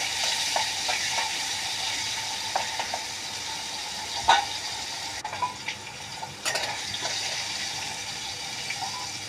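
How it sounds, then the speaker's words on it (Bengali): Shrimp frying in a pan make a steady close sizzle with occasional clinks and stirring scrapes, continuous throughout, with no talking. "ওই পাশে চিংড়ি মাছ ভাজবি"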